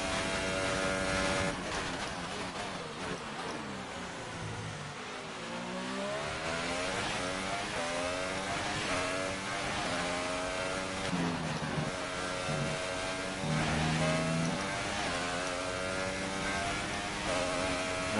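A Formula 1 car engine in the racing game F1 2018 screams through gear changes, with repeated rising whines, brief dips on downshifts and renewed climbs, loud and continuous without any voice.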